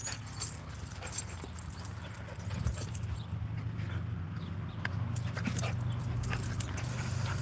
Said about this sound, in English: That crazy dog going crazy.